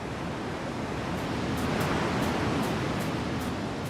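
Ocean surf in a remote stretch of sea off Socotra, a continuous broad wash of waves and wind at moderate level with no voices.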